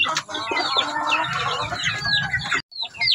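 A black Shamo chicken clucks and calls in a backyard flock, with busy overlapping clucks and short squawks from nearby birds, fairly loud and continuous, with a brief drop-out near the end.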